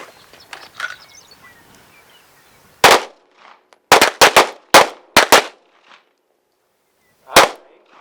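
Pistol shots on an outdoor defensive pistol drill range: a single loud crack, then a quick ragged burst of several overlapping shots from multiple shooters, and one final shot after a pause, with faint distant sounds early on.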